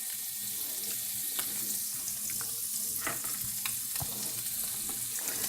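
Butter sizzles in a frying pan for fish: a soft, steady hiss with scattered small pops and crackles, fairly quiet throughout.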